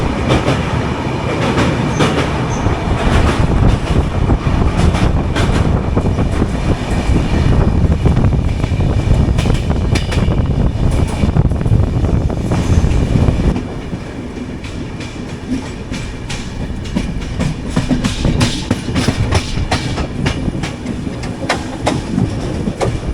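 Deccan Queen express train running from Pune to Mumbai, a steady loud rumble of wheels and carriages with rhythmic clickety-clack throughout, easing slightly quieter partway through.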